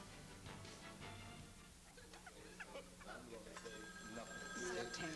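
A telephone rings with a bright, repeating electronic trill toward the end, heard under ongoing talk and background clatter.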